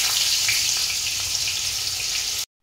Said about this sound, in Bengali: পাশে আলুগুলো ভেজে নেওয়া হচ্ছে